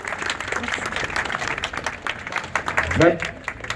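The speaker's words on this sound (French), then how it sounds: "on peut t'applaudir" Applause from an audience at a legislative election campaign launch in Paimpol, a steady patter of clapping beneath people talking, with a voice rising near the end.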